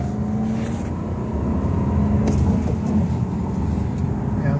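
A 2014 BMW 320i with manual transmission accelerates on a highway, its engine humming steadily from inside the cabin as it picks up speed, with road noise underneath.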